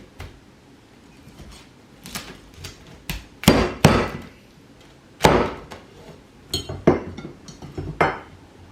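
Knife chopping through crispy cooked pork belly on a board, a string of sharp irregular crunching cracks and knocks, some louder, close by with no talk.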